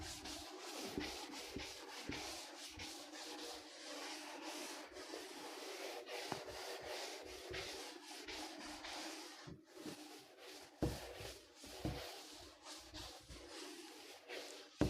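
Rubbing to erase writing on a screen during a physics lesson, a steady close scrubbing and swishing that continues for several seconds with brief pauses and no talking.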